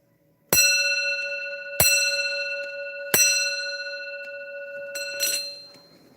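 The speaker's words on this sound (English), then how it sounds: "It's got a crazy big cast iron bell." An antique clock with forged levers sounds its count wheel strike on a very large cast iron bell: three loud, ringing blows about 1.3 seconds apart, each with a long sustained decay, then softer handling sounds near the end.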